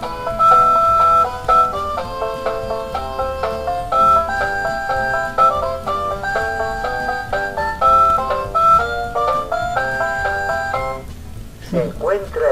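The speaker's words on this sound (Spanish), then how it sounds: "Si presionamos, creo que va a sonar música, porque la granja también tiene música." Electronic tinkly melody from a Chicco sound farm toy, a steady plinking tune playing loud and close for about eleven seconds before stopping with a brief handling sound at the end.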